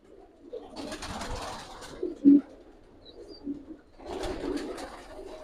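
A Chinese teddy pigeon of the high flyer type coos close by in soft, throaty bursts, two longer ones separated by a pause with a brief low note between, and no talk over it.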